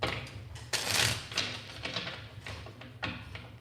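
A deck of tarot cards is shuffled in quick, irregular riffles and soft slaps, close by and fairly quiet, with no talking.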